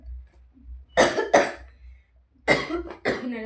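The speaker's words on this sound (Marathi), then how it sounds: "खोकला काही जात नाही माझा गेला होता पण परत आलाय" Four harsh coughs close by, in two pairs separated by a short pause, over a faint low hum.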